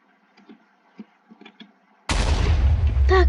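TNT firing arrows in a block-building video game: after faint scattered clicks, a sudden loud blast erupts and continues as a sustained crackling roar with a rising whistle near the end.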